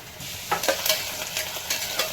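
A utensil stirs ginger-garlic paste into masoor rice in a pot, with soft scraping strokes and small clinks over a light sizzle, close and moderately loud.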